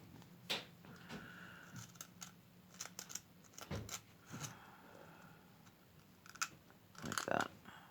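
A small knife carves a little wooden dog figure, producing faint, irregular scraping and clicking cuts at close range, with a few sharper snips near the end.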